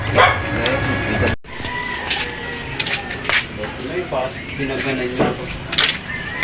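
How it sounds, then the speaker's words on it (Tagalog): Several dogs bark and yip in bursts, mixed with people talking nearby in a busy outdoor setting. "Daming aso ah. Daming aso."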